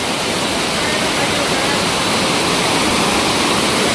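Water rushes loudly and steadily over the steps of a waterfall, a dense, continuous roar close by with no pauses.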